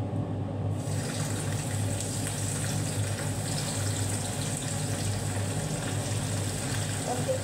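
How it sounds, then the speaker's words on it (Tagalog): Large shrimp fry in hot oil, a steady, even sizzle and crackle that holds constant throughout, close by and without interruption. "ipiprito na natin"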